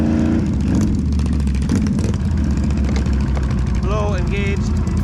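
Can-Am Renegade 1000 XMR ATV engine running loud and close on a rocky, muddy trail, a steady low rumble with throttle surges, people's voices and a brief whoop over it.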